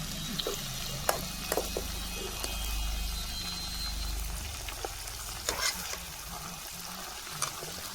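Partridge meat fries in a pan over a village cooking fire, a steady close sizzle with occasional sharp pops and clicks over a low rumbling hum, and no one talking.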